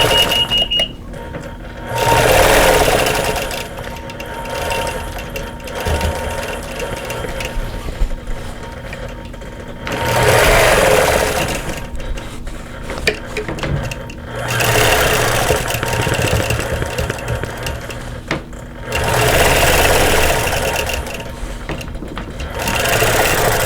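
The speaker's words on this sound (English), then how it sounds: "I'm just going to stitch in the ditch to the next" Sewing machine stitching in the ditch while quilting a southwestern-style quilt, running in several loud sustained bursts separated by brief pauses, close and alone without talk.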